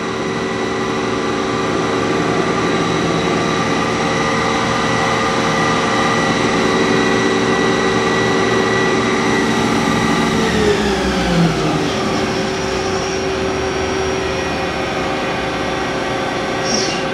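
A Mazak QT20N CNC lathe runs with a steady machine hum and whine, then the pitch sweeps down near the end as the spindle speed is changed.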